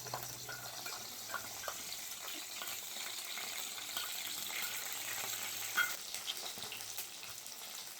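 Ginger paste, tomato, green chilli and spices frying in mustard oil for a Bengali fish curry, a quiet, even sizzle with soft stirring scrapes throughout, fairly faint and steady.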